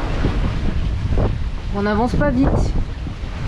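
Steady wind and sea noise aboard a sailboat running downwind in 15 to 20 knots between the Martinique and Grenadines islands, with someone speaking briefly over the constant rush.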